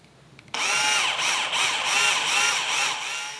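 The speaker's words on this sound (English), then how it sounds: "carefully drill a hole through each of them" Power drill boring a hole through a corner of a wooden frame, a loud steady high whine starting abruptly after a brief pause and running without a break.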